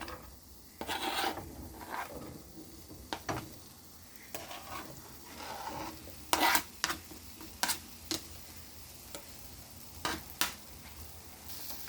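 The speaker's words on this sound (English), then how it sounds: "I'm going to add some butter. And I'm going to go ahead and throw in the onions and the asparagus." Onions and asparagus sautéing in butter in a pan, a low sizzle broken by repeated scraping and stirring strokes of a spatula, several sharper clacks near the middle.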